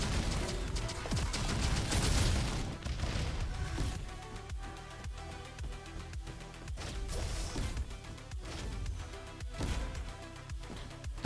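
Heavy shotgun blasts from the Sulfator chain shotgun in the video game Roboquest, a dense run of loud booming shots over busy game sound, strongest early then continuing in repeated bursts.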